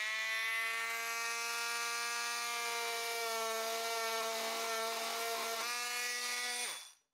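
A FERM 20V cordless oscillating multitool cuts into wood with a loud, even, buzzing drone. It runs close for about seven seconds and then winds down as it stops.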